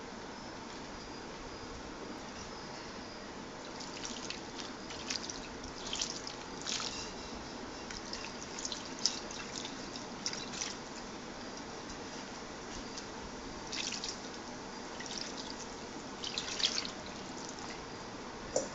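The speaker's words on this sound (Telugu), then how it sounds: "మనం సరిపడిన వాటర్ కూడా పోసేసుకోవాలి" Water poured steadily into a fish curry mixture, a soft continuous trickling and dripping at close range with small splashes throughout, no talking.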